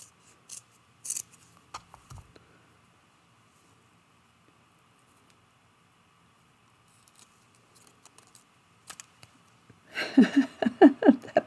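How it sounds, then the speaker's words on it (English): Scissors trim a sliver off a paper quilt piece in several short, quiet snips spread across a mostly silent stretch. A voice speaks briefly at the end. "I'm going to trim a little sliver off."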